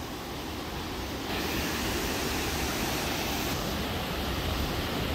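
Continuous broadband rush of a big waterfall near Aso, Kumamoto, one of Japan's eight great falls, slightly quieter for the first second and then a full, even roar.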